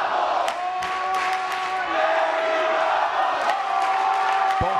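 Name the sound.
crowd chanting Eddie Bravo at grappling match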